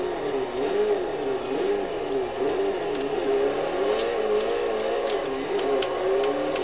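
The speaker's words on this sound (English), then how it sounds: "Oh, I hear that inline four screaming." An inline-four engine screams at high revs in a Forza Horizon 2 drift car, a continuous wavering howl as the pitch rises and dips with throttle and gear changes.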